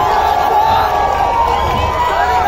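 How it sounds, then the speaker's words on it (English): A large concert audience in Pune cheers and shouts loudly after the show, a dense, continuous roar of whoops and applause with no pause. "The applause is not for us."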